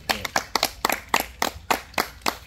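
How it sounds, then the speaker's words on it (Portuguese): A few people clapping during a surprise home gift presentation, about a dozen distinct, uneven claps in close succession, fairly near and moderately loud, with no talk over them. "Uma salva de palmas, gente."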